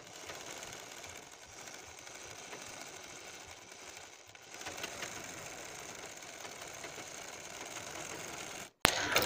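A sewing machine runs steadily, stitching piping onto the sleeve of a baju, a continuous whirring hum at moderate level that gets slightly louder midway and stops abruptly near the end.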